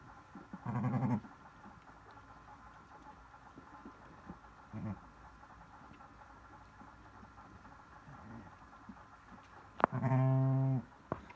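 A lamb on a farm bleats in two short, loud bursts separated by a long quiet stretch with faint background noise.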